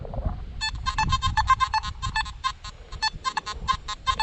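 A metal detector gives a choppy, warbling electronic tone in rapid irregular pulses over a bottle cap, with low rumbling handling noise.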